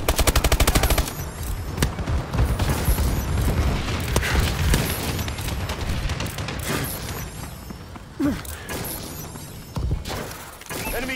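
A friendly bombing run airstrike in Call of Duty brings heavy machine-gun bursts, shattering impacts and booming explosions, loud and dense throughout with a few sharper blasts near the end.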